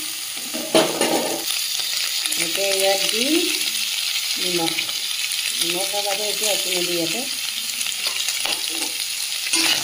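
Pork fries in a kadai without oil, releasing its own fat, with a close, steady sizzle and repeated scraping and clinking of stirring while a person talks over it.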